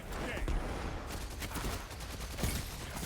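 Rapid bursts of SMG automatic gunfire in Destiny, dense and continuous, with game sound effects in the background.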